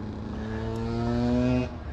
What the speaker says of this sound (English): There goes the two-stroke ripper going by.